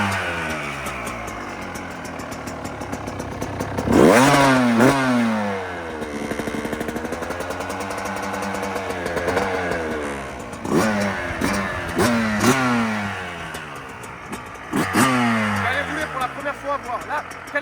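A new 2023 Yamaha YZ 125 two-stroke dirt bike starts for the first time, then revs repeatedly in sharp rising and falling bursts between stretches of rough idle. The engine is close and loud, with people talking in between.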